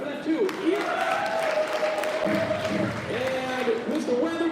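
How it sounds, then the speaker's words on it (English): Audience applause for the judges at a Poetry Out Loud event, steady clapping from a crowd with cheering voices and a host's speech carried over it. "Big round of applause."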